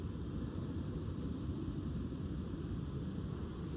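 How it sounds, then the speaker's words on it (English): A fixed-wing airplane passes over a park, a continuous broad engine roar holding steady and fairly loud throughout, with no voices heard. "Hold on, plane."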